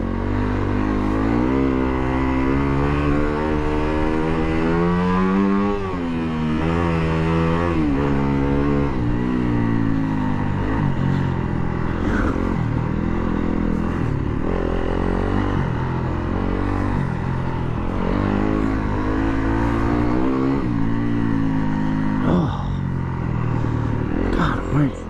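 A 2019 Yamaha WR250F dirt bike ridden off-road over rocky ground, its engine droning loud and close throughout with rising and falling revs, under a rider's talking.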